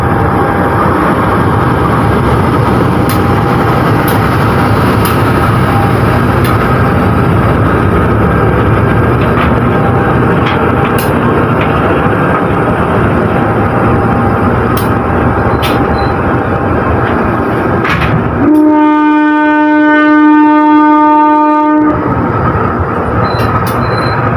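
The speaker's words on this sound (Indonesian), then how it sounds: "disusul dengan kereta api Pasundan tambahan yang masuk di jalur 2 stasiun Jeruk Legi" Pasundan passenger train rolling loud and steady into track 2 at Jeruk Legi station, a continuous rumble of wheels and carriages with a sharp wheel squeal or horn-like tonal burst near the end.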